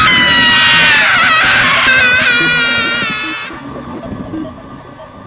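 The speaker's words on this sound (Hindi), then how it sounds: "एक झटके में श्वेता की चीख उन पहाड़ियों में गूंज जाती है" A woman's high, piercing scream rings out for a few seconds with wavering pitch, then drops away into a quieter, lingering tail like an echo across hills, staged as a horror-story effect.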